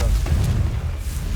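In Hogwarts Legacy, a Confringo blasting spell explodes in a short, dense burst of low rumble that fills the moment without letting up.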